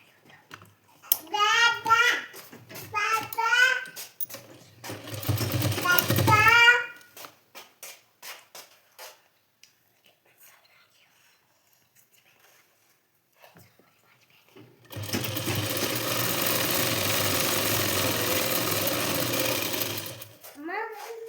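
Sewing machine stitching a blouse, heard as a steady, fairly loud machine run of about six seconds near the end, after an earlier stretch of broadband noise and a softer middle pause.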